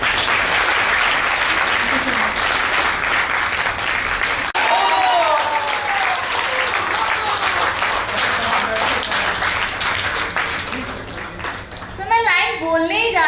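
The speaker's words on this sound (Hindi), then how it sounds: "एक जोरदार तालियां हमारी दोस्त को।" Audience at a motivational speaking event gives a hearty round of applause, dense clapping swelling loud and lasting several seconds before thinning out, with cheers mixed in and a voice beginning to speak at the close.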